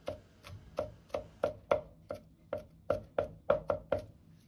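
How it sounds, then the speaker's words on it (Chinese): A knife chops ginger and garlic on a cutting board with about a dozen steady, close, crisp thuds in an even rhythm. "生薑1塊，大蒜2顆，拍破剁碎就可以"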